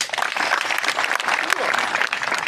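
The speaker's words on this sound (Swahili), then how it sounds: "So mjipigie makofi for being in school." A school audience at a comedy event in Homa Bay gives a dense, continuous round of applause, loud and close, with crowd noise mixed in.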